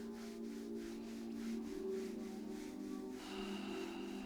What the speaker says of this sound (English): just rub along the back of your knees